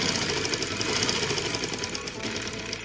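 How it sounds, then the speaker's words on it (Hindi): A sewing machine runs steadily, stitching box pleats on a girl's frock, a dense continuous mechanical whir at close range without pauses. "हमने इसके निशान के मुताबिक इसके ऊपर सिलाई लगानी शुरू की है"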